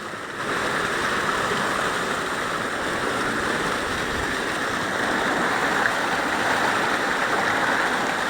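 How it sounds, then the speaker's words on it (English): Continuous rushing water churns nearby, a steady broad roar of the Rio Segura pouring through a water wheel near Benejúzar, Alicante, Spain, with no voices. "here's the water wheel"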